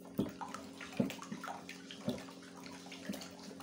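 Liquid soap mixture stirred in a container after caustic soda is added, giving a few distinct sloshing, knocking strokes about a second apart, quiet and close.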